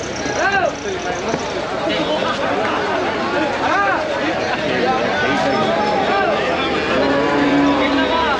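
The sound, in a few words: cattle mooing at a cow market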